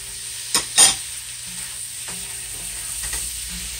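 Sliced zucchini and yellow squash fry with saltfish in a pan with coconut oil and garlic, a soft steady sizzle broken by a few sharp stirring scrapes, close and without talk.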